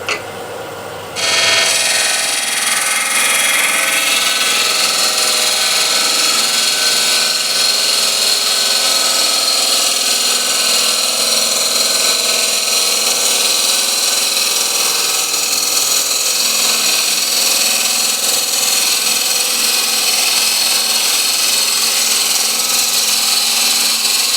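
A wood lathe spins an 11-inch osage orange bowl while a bowl gouge cuts the outside, a loud, steady, broadband scraping whir that stays continuous after starting abruptly.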